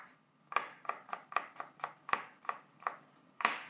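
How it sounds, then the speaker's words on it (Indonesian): A knife slices shallots and garlic on a board in a steady series of about ten crisp, evenly spaced cuts, close up with no talking. "Ini bawang merah, bawang putih mau kita iris terlebih dahulu ya."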